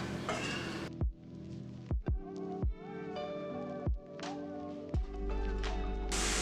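Cauliflower rice is stirred in a pan, giving quiet scrapes and about half a dozen metallic clinks at roughly one-second intervals over a soft, steady background.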